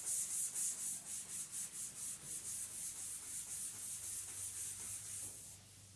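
A Scotch-Brite pad is rubbed back and forth over a Foxbody Mustang frame, giving a close, quiet scratchy scuffing with a regular rhythm of about three strokes a second.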